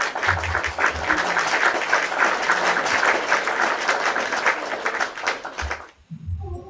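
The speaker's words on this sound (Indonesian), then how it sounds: "Kasih tepuk tangan dulu" An audience at a religious discussion gathering breaks into sustained, dense applause that continues for several seconds and then stops abruptly near the end, followed by a brief low sound.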